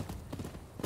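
A horse in Rise of the Ronin gives off a quick run of clip-clopping hoofbeats, close and moderately loud, across a brief moment.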